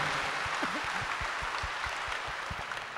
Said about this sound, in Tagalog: Isang malakas na palakpak sa ating Panginoon